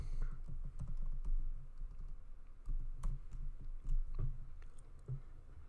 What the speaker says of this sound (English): I'm going to type in the word regular.